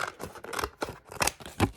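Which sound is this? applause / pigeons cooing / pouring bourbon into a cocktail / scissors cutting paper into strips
scissors cutting paper into strips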